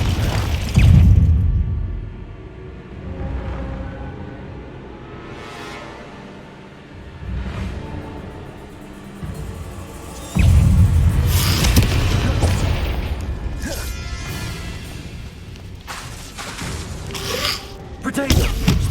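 Confringo fire spell explosions in the Hogwarts Legacy video game, heavy booms bursting out at intervals over game music and effects, with a voice talking in between.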